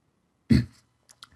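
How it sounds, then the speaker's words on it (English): A single short throat-clearing burst from a man, close and fairly loud, trailing off quickly, followed by a couple of faint clicks in otherwise quiet surroundings. "Had to clear my throat there."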